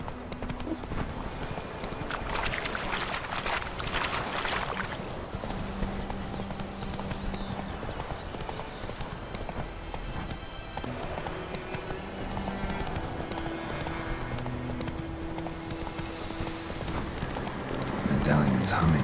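Hooves of Roach, a horse in The Witcher 3 video game, pounding at a gallop in a steady rhythm with game music and talk over it.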